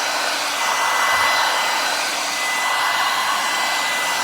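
A heat gun blows a steady, loud, even hiss of hot air while shrinking plastic wrap around a Mother's Day gift basket, with no other sounds.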